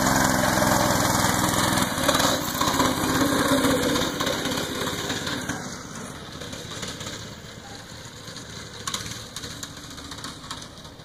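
A small go-kart engine runs steadily, loud and close at first, then eases slightly and fades a little as the kart pulls away, with a constant buzzing drone throughout.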